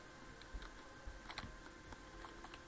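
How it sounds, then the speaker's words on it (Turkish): Soft, irregular clicking of keys on a computer keyboard while playing GTA Vice City, quiet and close, in short uneven bursts over faint background hiss. "şu ankinden klavye sesleri falan duyuluyor herhalde"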